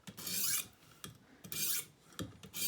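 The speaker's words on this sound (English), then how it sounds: "So we flip it over, and then listen to that burr get removed." Green River mountain man knife blade being sharpened to remove the burr, a close rasping rub repeated in three rhythmic strokes with quiet gaps, no talk.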